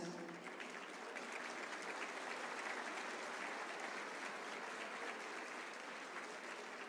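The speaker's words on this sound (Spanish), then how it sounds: "El primer aplauso de la tarde es para todas las familias que se han congregado hoy" Sustained, dense applause from families gathered in a school gymnasium at a folk dance gala, a steady even roar of clapping that fills the whole stretch without pause.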